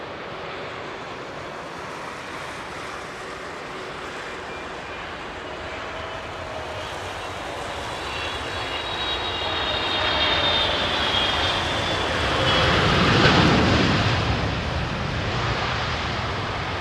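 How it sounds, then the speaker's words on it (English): A Boeing 777 airliner landing on a wintry runway with all-wheel braking, its engines giving a steady broad roar that swells into a louder rushing peak partway through before easing off. "Is that all-wheel braking on the mains of the 777"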